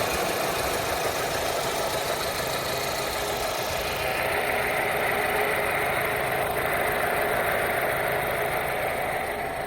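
A Renault Scenic with a 1.6 petrol engine and manual gearbox runs steadily at idle, a continuous close mechanical hum with faint ticking and no speech.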